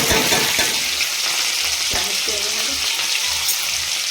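Green chillies dropped into hot oil with browned garlic fry in a steady, loud sizzle, with a few sharp crackles and spoon stirs early on, no voices.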